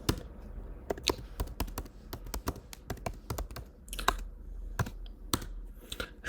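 Steady typing on a computer keyboard, close-up clicks in quick irregular runs with brief pauses and a few heavier key presses, quiet, with no voices.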